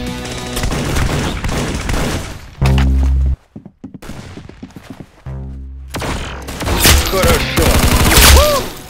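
Video game gunfire, loud bursts of rapid shots and heavy single blasts with brief gaps, mixed with game effects and a few other noises.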